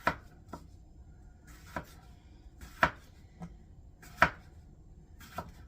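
Knife slicing two cucumbers on a cutting board, a series of sharp, uneven thwacks about once a second, close and distinct with quiet gaps between.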